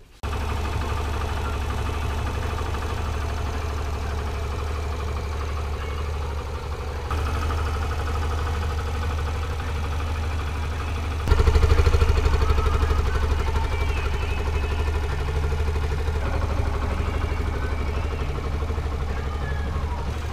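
A Yamaha YBR 125 MK3 motorcycle engine idles steadily with a low, continuous rumble, growing a bit louder partway through, with faint talk in the background.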